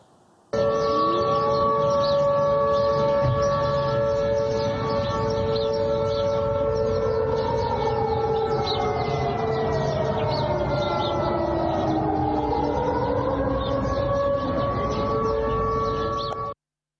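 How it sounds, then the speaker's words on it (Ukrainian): A long, wailing civil defense air raid siren in Russia, sounded during a warning-system test, rises and falls in pitch, droning continuously for many seconds at a distance before cutting off abruptly. "що нібито сирени були навчальними, оскільки триває перевірка систем оповіщення"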